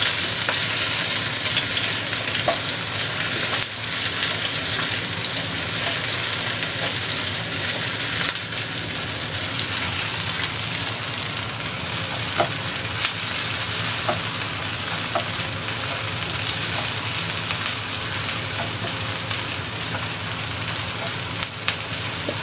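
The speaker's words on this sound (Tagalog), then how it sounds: "bawang at saka sibuyas. Nagisa-gisa na ta." Garlic and onion sautéing in a pan in preparation for cooking chicken feet, producing a loud, steady, close sizzle with faint clicks throughout.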